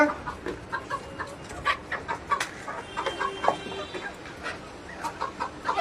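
Chickens fed apples on a farm cluck in scattered, short bursts, fairly close and moderately loud, with no one speaking.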